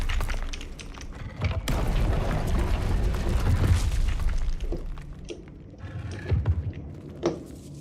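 Confringo fire spell explosions in the video game Hogwarts Legacy, a loud sustained booming blast with rumbling debris and crackles, followed by a few smaller bursts and impacts.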